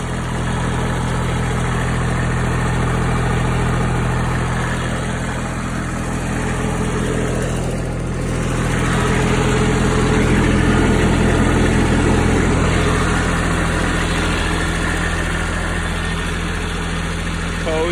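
Steady diesel idle from a Toro Groundsmaster 328D with a Kubota diesel engine and all-wheel drive, fitted with a cab and aggressive tires, outdoors in snow. The engine hums continuously at a constant low rumble for the whole stretch.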